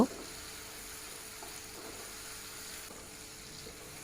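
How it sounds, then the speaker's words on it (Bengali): Finely chopped onion fries in a pan with a low, steady sizzle, while occasional soft scrapes of stirring come through. The sound is fairly faint and continuous, with no talking. "মিহি করে কুচনো পেঁয়াজ পেঁয়াজটা অ্যাড করে দিয়ে আমি একটু নেড়ে চেড়ে নেব"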